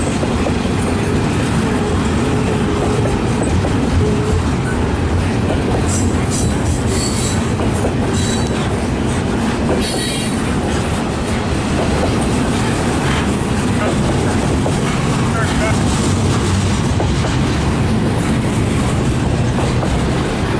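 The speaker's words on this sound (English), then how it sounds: "Two AC-4400 locomotives together up front." A freight train led by two AC4400 locomotives rolls past close by, with a loud, continuous roar of wheels and cars, rhythmic rail clatter and occasional wheel squeal sustained throughout.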